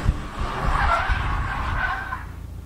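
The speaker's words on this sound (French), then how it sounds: "Maintenant on va tester le launch control." A Hyundai Ioniq 5 N doing a launch-control start, its tires squealing loudly and continuously for a couple of seconds as it pulls away.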